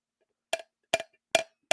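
A screwdriver taps solid fiberglass boat gel coat four times at an even pace, each strike a crisp, bright tink with a short ring, close and alone against silence.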